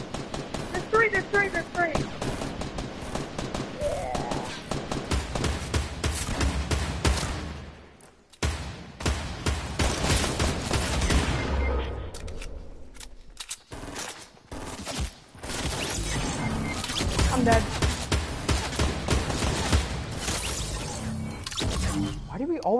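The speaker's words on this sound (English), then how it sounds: "He's shooting at me." Enemy gunfire rattles through a shooter video game, long bursts of rapid automatic shots with brief pauses, loud and close, while players talk excitedly over the shooting.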